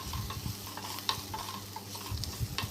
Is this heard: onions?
yes